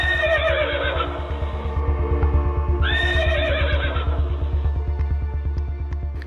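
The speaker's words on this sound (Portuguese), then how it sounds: "Os cavalos estão ficando cansados" A carriage horse whinnies twice, loud and close, over a steady rhythmic clip-clop of hooves that continues throughout.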